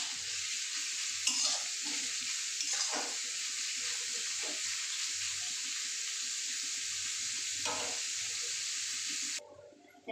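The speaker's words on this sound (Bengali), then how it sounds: "দেখুন পেঁয়াজ ভাজা হয়ে গেছে," Onions frying in a pan give a continuous close sizzle, broken by a few scraping stirs, before the sound cuts off abruptly near the end; no voices.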